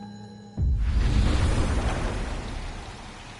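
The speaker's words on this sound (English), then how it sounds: "Psychic storm." A psychic storm in the video game Life is Strange Double Exposure bursts in suddenly with a loud crack of thunder, then heavy rain and rumbling roar that stay dense and slowly fade, with no voices.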